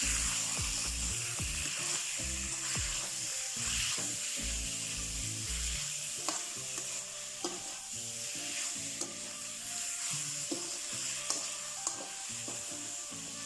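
Garlic and fatty pork stir-fry for a Thai pork and cabbage dish: a steady sizzle runs under repeated scraping and stirring strokes of a utensil against the pan, with occasional light clinks.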